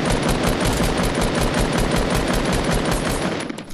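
Rapid automatic gunfire in a Fortnite fight, a loud, continuous stream of close shots that rattles on without pause before easing slightly at the very end.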